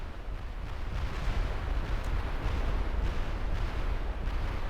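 Cannons fire in rapid succession during an ogres-versus-greenskins battle in a Warhammer video game, heard as a dense, continuous roar of booming blasts and rumble with no gaps between shots.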